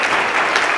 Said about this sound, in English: Can everyone give them a round of applause just for putting on this event?